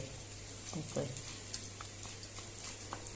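Kingfish frying in hot oil in a Goan home kitchen, giving a low, steady sizzle with a few soft stirring scrapes and light ticks, close and quiet, alongside brief human vocal sounds.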